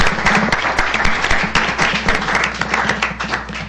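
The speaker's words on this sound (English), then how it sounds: "let's just give a round of applause" A school board meeting audience claps steadily after an honorary diploma tribute, a close, crisp patter of many hands with a low hum underneath, no talking.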